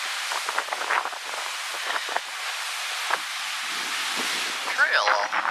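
Wind buffets the microphone on the Barbados coast while big ocean waves surge beneath, rough and irregular, with a brief whine near the end.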